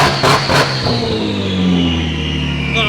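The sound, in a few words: JZ-swapped BMW engine revving with turbo whistle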